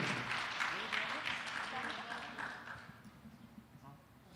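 An audience applauds after a song at an evening birthday celebration, with a burst of clapping that thins and fades away over a few seconds, heard at a distance and moderately quiet.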